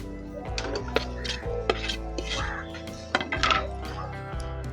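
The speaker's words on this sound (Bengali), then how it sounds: "আলুটাকে মশলার সঙ্গে ভালো করে মিশিয়ে নিচ্ছি" A spoon mixes mashed potato with turmeric, chili powder, salt and masala in a bowl, producing a few clinks and knocks plus soft mashing sounds over steady background music.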